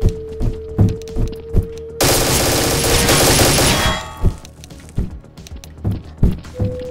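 Loud burst of automatic gunfire in Garry's Mod DarkRP, a dense rapid volley lasting about two seconds, framed by scattered thumps and single shots before and after.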